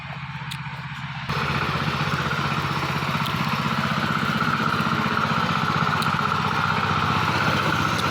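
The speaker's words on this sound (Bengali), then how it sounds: "পাওয়ার টিলার চলে আসছে" A power tiller engine running in a banana plantation, a steady close mechanical chug with a rapid even pulse that starts abruptly after a brief quieter moment and then holds constant.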